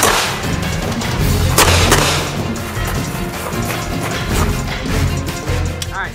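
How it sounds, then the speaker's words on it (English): Shots from a Glock 42 .380 pistol at an indoor gun range: several sharp, loud reports at irregular intervals over a booming, echoing background. "Gonna shoot it, gonna fire 6 slow rounds, and then I'm gonna do 6 rounds rapid fire."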